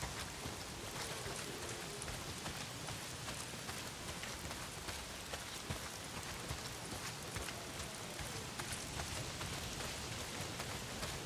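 Heavy rain pouring steadily in the video game Days Gone, a dense, even hiss of drops on surfaces with no letup and no voices.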